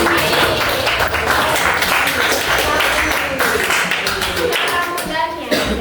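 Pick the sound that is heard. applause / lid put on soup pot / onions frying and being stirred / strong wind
applause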